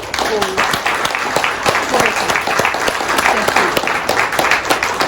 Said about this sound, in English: So I'd like us to join in applause for